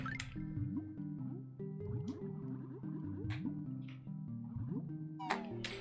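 A watery area in Banjo-Kazooie carries plinking, bubbly drip and splash tones that rise and fall in short musical bursts, repeating in a loose rhythm at moderate level.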